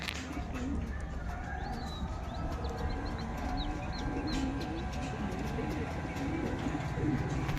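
Small pigeons at a pigeon sale and show coo repeatedly in soft, low bursts, with chirps from other birds and steady background noise throughout.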